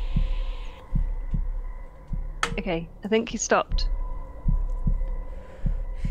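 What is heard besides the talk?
heartbeat sound effect in a horror video game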